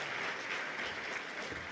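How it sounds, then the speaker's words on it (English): A conference audience at Toorcon 2007 claps for the keynote speaker, a dense, steady wash of many hands applauding close by with no pauses. "Let's give him a big round of applause."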